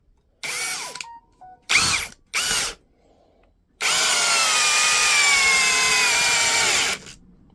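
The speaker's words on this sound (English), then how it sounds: "we'll give it a bash here with a 3-inch staking screw" A MELLIF cordless drill at speed 2 in drill mode drives a 3-inch staking screw into wood, with a few short whirring bursts followed by one long, strained run that stops abruptly.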